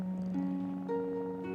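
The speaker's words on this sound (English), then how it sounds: "He's still purring." A male cat recovering from surgery at a vet clinic purrs in a steady, continuous rumble, close and moderately quiet, with faint tonal hums running beneath it.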